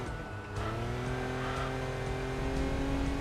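A German race car on the Nordschleife in Enthusia Professional Racing, engine droning steadily with a rising harmonic pitch as it accelerates out of the final corner, tyres hissing underneath, continuous and close with no talk.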